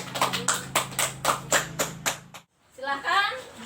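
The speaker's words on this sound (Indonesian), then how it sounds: "Tepuk tangan untuk kelompok 2" Classroom applause for a student group after their presentation: a handful of people clap in a steady rhythmic pattern of about eight claps, then stop as a voice begins speaking.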